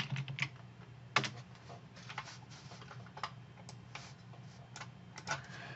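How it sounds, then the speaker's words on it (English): Keys clatter on a computer keyboard while commands are entered in a Windows command prompt, giving close, uneven bursts of clicks with one sharper tap, over a low steady hum. "Now we'll run the script by typing Python and hitting Tab to complete"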